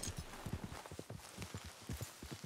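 Horse hooves clip-clop in a steady walking rhythm, close and clear, in the Western video game Red Dead Redemption 2, with no talking.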